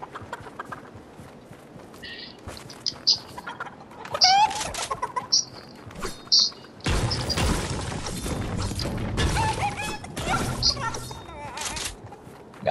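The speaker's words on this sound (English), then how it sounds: "Got me a chicken, bruh." Chickens cluck in short, scattered bursts inside a Chapter 3 video game, mixed with clip-clopping footsteps and busy in-game effects, moderately loud, while a player talks over parts of it.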